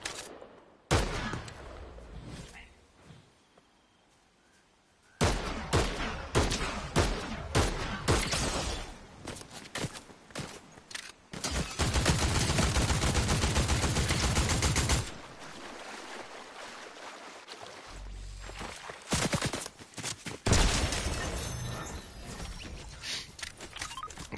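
Shots from the Outlaw weapon in a video game crack out in rapid bursts, dense volleys alternating with short lulls and a brief silence, loud and up close with no talking.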